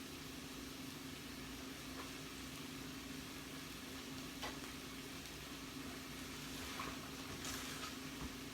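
Onions and peppers sweating in a pan give a steady, soft sizzle that holds evenly throughout, quiet and unbroken, with a low hum underneath and no voices.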